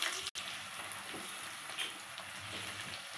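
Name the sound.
onions frying in a pan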